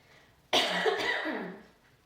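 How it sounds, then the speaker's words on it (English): A single harsh cough from a person with a cold bursts out close by, followed by a rough, trailing exhale as it fades. "I promise I will get over this cold eventually. There will be no more coughing."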